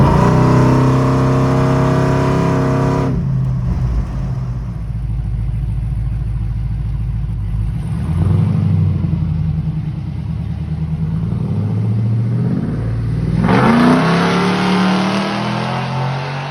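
A car fitted with a Ford 9 inch rear end drives along, its engine revving up and settling back down in loud, continuous waves from start to finish.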